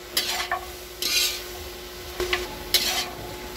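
Seasoned vegetables for pancit being sautéed in a pan, with a low sizzle under several distinct scraping stirs of a utensil against the pan, spaced irregularly and fairly close.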